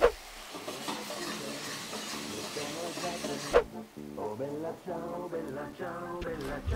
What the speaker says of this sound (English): Turn off the heat. And deglaze with the balsamic vinegar.